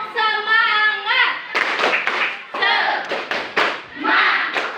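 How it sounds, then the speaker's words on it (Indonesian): A classroom of students performs the rhythmic Indonesian spirit clap, sharp bursts of clapping in patterned groups alternating with a group of voices chanting along. "Yuk, tepuk semangat."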